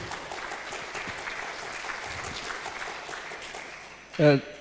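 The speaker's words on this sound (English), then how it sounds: "Give applause for Professor Badaruddin." Steady applause from an audience at an international student management conference, welcoming a keynote speaker; moderate even clapping throughout, ending with a brief spoken word.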